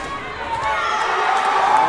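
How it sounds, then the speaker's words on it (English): A noisy, vibrant crowd fills the Patliputra Sports Complex stadium during a women's regu sepak takraw World Cup match between Malaysia and India, a steady roar of cheering under a commentator's voice. "Vibrant indeed, the crowd. Very noisy."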